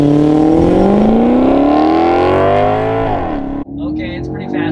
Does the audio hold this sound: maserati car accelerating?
yes